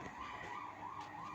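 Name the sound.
emergency vehicle sirens outside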